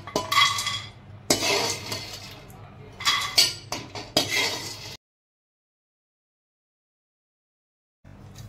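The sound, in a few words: stirring in a kadai pan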